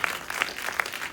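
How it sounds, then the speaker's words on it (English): Cinema audience applauding on the opening night of the 8th Black Star International Film Festival, a brief burst of close, sharp hand claps with irregular accents. "Please, a round of applause for yourselves."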